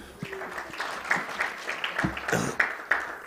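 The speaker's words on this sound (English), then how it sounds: "So another round of applause, please." An audience at a conference on information and communication rights in Africa gives a round of applause. The clapping is moderate and scattered, with distinct individual claps rather than a dense roar, and it lasts a few seconds.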